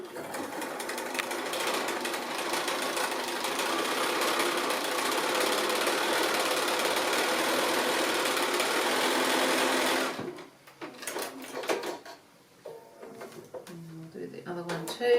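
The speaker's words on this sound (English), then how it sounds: "we should also just top stitch these two little edges just in that ditch along there" A sewing machine top-stitches the edges of a fabric tissue pouch in a loud, steady run of rapid stitching that stops abruptly, followed by soft handling noises and fabric rustle.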